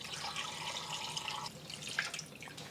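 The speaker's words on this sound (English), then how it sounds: "Covering the bones with water." Water poured into an Instant Pot over beef bones with salt, a steady trickling splash for about a second and a half, then softer drips and sloshing, close and fairly quiet.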